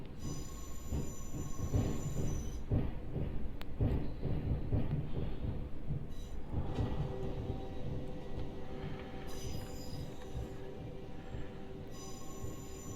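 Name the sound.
Class 707 train running with windows open, from Train Simulator Classic video game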